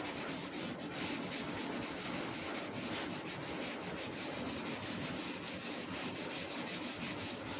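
A board eraser rubbing out writing on a board during a geometry lecture, a steady continuous scratchy rubbing sound that stays even and close throughout, with no voices.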